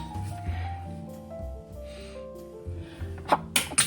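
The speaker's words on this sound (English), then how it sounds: "I think I need to sneeze." A person sneezes near the end, a couple of sharp bursts close to the microphone, after a stretch of soft tonal background sound.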